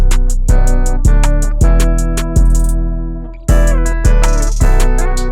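Loud looped beat with punchy kick drums and tonal, distorted guitar-like stabs repeating in a steady rhythm, cut off briefly before restarting.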